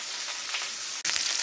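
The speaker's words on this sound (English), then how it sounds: "our cast iron skillet is sizzling hot" A bright, hissing sizzle from a hot cast iron skillet for cooking steak, steady and close, with a brief dip and a sharp crackle partway through.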